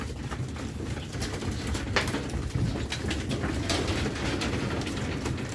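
Pigeons feeding close by give soft, low cooing over a constant bed of pecking, shuffling and scratchy noise, with scattered sharp taps throughout.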